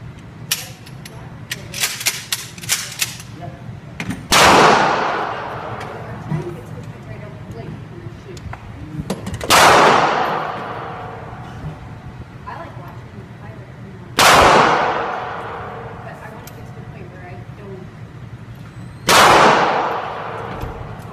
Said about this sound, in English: Load it, cock it, shoot it.